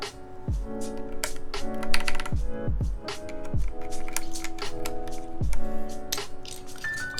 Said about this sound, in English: Alright, let's put these keycaps on.